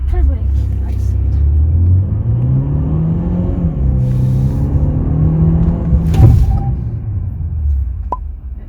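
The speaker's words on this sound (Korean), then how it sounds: "그러면 가속했다가 풀브레이크 하겠습니다" Turbocharged Renault SM6 facelift accelerating hard with a steady engine drone rising in pitch, then braking fully to a stop, heard from inside the cabin.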